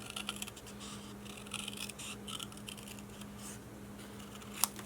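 Soft, quiet snips and rustles of scissors cutting paper, close by, with faint scratchy crunches scattered throughout and a sharper click near the end.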